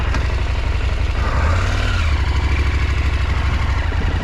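2023 KTM 890 Adventure motorcycle engine idling nearby, a loud, steady, rapid thrum that holds unbroken throughout, with no talk.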